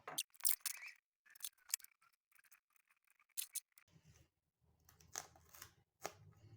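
Scissors snip adhesive tape for a handmade paper envelope savings game, giving several short crisp cuts in quick bursts, followed by quieter tape rustling and handling, close and moderately loud with no talk.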